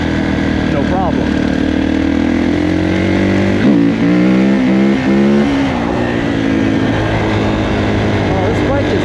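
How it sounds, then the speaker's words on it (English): A 2021 Kawasaki KX450 dirt bike on a trail ride roars loud and close, revving and shifting pitch continuously, with a sharp throttle burst near the middle and a voice talking over the engine. "Oh, this bike is a hoot to wheelie."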